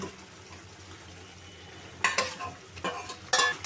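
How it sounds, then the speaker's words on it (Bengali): Catfish pieces go into a pan with tomato and sizzle; after a quiet stretch, three sharp bursts of frying and scraping come in quick succession, close and fairly loud. "এখন আমি মাছগুলো দিয়ে দিচ্ছি"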